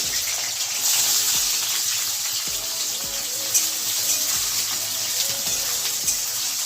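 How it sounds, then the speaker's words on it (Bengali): Onions drop into hot oil already holding cinnamon, cardamom and cloves, giving a loud, dense, continuous sizzle close by, with faint low clatter underneath. "এই যে 5টা এলাচ, ছোট এলাচ আর লবঙ্গ 5টা 6টা তেলে দিয়ে দিচ্ছি। এবারে পেঁয়াজ দিয়ে দিচ্ছি।"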